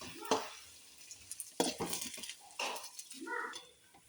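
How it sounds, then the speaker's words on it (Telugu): A spoon scrapes and stirs turmeric, cumin, fenugreek powder and salt together in a pan, giving a few soft, brief gritty strokes at close range. "ఇప్పుడు ఇవన్నీ బాగా కలిసేలా కలుపుకుందాం."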